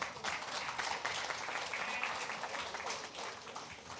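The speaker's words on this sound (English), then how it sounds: "we must give some applaud to our Prime Minister" Steady crowd applause at a St. Kitts and Nevis ceremony marking pension payments for retired workers, a continuous dense clapping wash of even loudness from start to finish.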